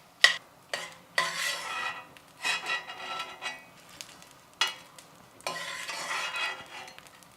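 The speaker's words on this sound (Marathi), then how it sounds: "तर या ठिकाणी हा डिंक आपण छान तळून घेतला आहे." Edible gum (dink) frying in hot fat in a pan for ladoos, heard as bursts of crackling sizzle separated by pauses, with a few sharp utensil taps and scrapes against the pan.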